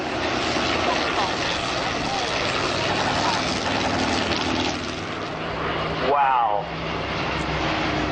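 A 65A aeroplane flies past at the Shoreham Airshow, a loud steady engine drone that swells and shifts as it passes, with a commentator's voice over the public address and a brief exclamation from a spectator.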